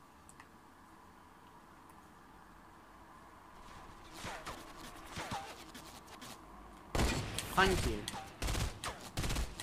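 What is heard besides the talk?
gunfire from video game Fortnite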